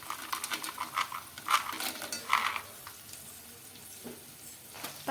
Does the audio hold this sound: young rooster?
no